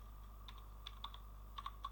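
Quiet typing on a computer keyboard into a search bar: a few light, uneven key clicks in short bursts over a low background hum.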